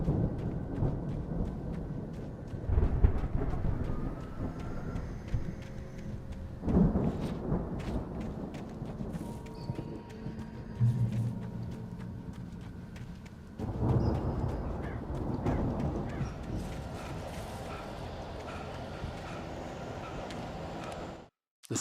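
A heavy thunderstorm from the video game Alan Wake rumbles on steadily, with deep rolling thunder and rain hiss. Louder surges break in periodically, and there is no talk.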